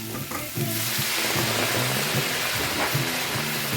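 Chilli con carne beef frying in a pan hisses into a loud, dense sizzle as water is splashed in, the steamy crackle holding steady with faint stirring scrapes close by.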